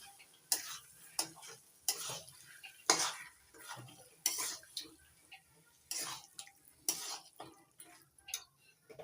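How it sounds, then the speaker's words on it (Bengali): Marinated chicken stirred and fried with spices in a pan over medium-high heat: a series of sharp scraping and clinking strokes of a utensil against the pan, coming in an irregular rhythm, close and moderately loud, with no talk. "এবার মশলার সঙ্গে চিকেনটা ভালো করে কষিয়ে নিচ্ছি।"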